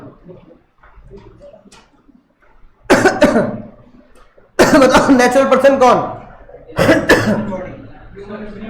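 A man coughs a few times during a lecture, giving loud, harsh bursts close to the microphone, and he talks briefly before and between them.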